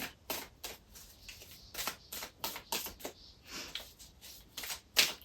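Tarot cards snap and riffle in quick, irregular bursts as they are shuffled and dealt onto a table, close and fairly quiet, with no voices.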